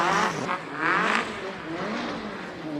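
A classic race car with a 2.3 litre engine and a pair of downdraft carburettors revs hard at a Cape Town hillclimb, a loud rasping roar that surges, dips and swells again.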